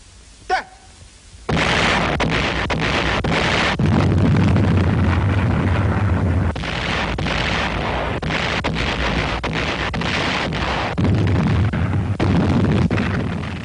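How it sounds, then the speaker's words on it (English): Japanese artillery bombardment of the Corregidor island fortress in 1942, heard as a continuous roar of loud blasts and rumbling explosions, dense and heavy after one sharp early report. "the Japanese bombarded the island fortress with every weapon at their command"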